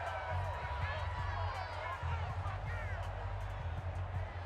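Stadium crowd noise in a simulated Jaguars at Texans football game in the Madden video game, a low steady roar with faint rising calls, heard beneath a voice talking.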